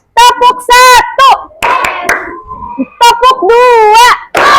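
Children in a classroom clap hands in short bursts during an ice-breaking routine, with the sharp claps mixed between loud voices chanting and calling out.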